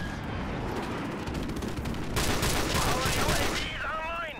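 Rapid sniper rifle and automatic gunfire from the video game Modern Warfare Remastered, a dense continuous barrage of loud shots and blasts that intensifies partway through, with whistling sweeps near the end.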